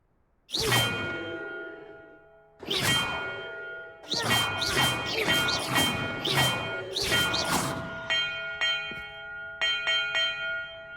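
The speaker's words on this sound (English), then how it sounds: "Perhaps the map contains clues about the order I'm supposed to ring the bells in." Bells in the Hogwarts Legacy video game ring out in a sequence of loud clanging strikes, some spaced apart and some in quick succession, each leaving a long metallic ringing tail.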